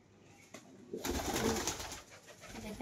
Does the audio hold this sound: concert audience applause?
no